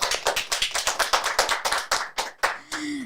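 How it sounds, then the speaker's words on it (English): Audience clapping after a session at a fiscal sustainability learning event, a run of fairly close, rhythmic claps that thins out near the end. "please give a big hand and applause to Mewis Ashraf"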